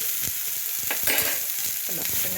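Chopped vegetables sautéing in hot oil with mustard seeds, a steady close sizzle broken by repeated scraping stirs of a spoon in the pan, with no voices.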